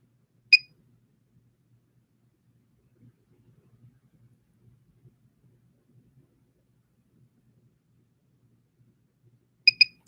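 A Mini by Clareblend microcurrent facial device emits short, high electronic beeps, one early on and a quick pair near the end, with near silence and faint handling noise between them.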